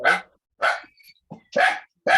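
A dog barks four times in sharp, loud, close bursts spaced about half a second apart, with a short softer yip between them.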